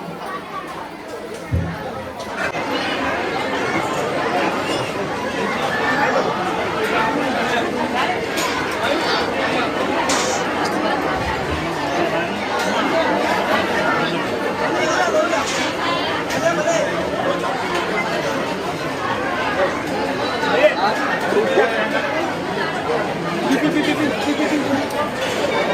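A large crowd of devotees chatters steadily at a village feast on the first Shravan Monday, forming a continuous dense babble of many voices. Occasional clinks and thumps sound over the babble for the full length.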